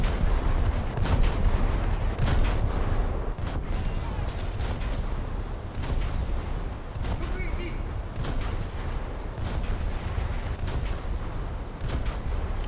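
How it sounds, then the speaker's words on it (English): In a naval warship video game, heavy booms and explosions go off again and again. The blasts sound loud and dense and come in quick succession over a constant rumbling background of battle noise. "Explosion."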